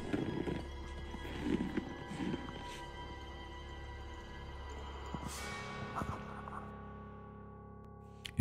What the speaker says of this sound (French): Une voix au loin effraie totalement le cheval qui s'enfuit